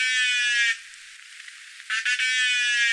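A recorded whale call: buzzy, strongly harmonic calls in two bursts, the first fading out after under a second and the second returning after a quieter, hissy gap, heard alone without talk.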